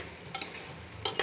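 Polao rice being fried in a pan gives a faint, quiet sizzle, with a few brief scraping stirs close by.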